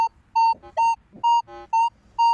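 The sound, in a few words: Minelab Manticore metal detector signal tone over silver coin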